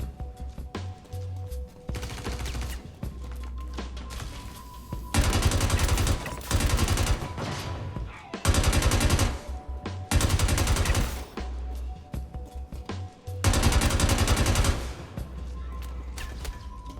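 An FS-9 light machine gun fitted with a Tweaker size 2 compensator fires in Star Citizen. Loud, rapid automatic bursts come in several separate strings, with short pauses and a low mechanical hum between them.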